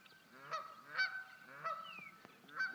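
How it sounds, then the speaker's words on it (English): Several geese honk nearby in a few loud, spaced calls, with a brief higher squawk between them. "Sorry geese, got some work to do."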